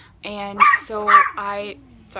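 A dog barks and yips several times in quick bursts, close and fairly loud, while a person speaks over it.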